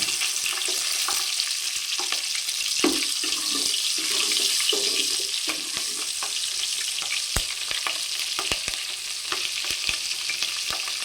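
Green chillies sizzle steadily in hot oil in a pan, a close, continuous hiss broken by scattered pops and crackles over about eleven seconds, with no voices.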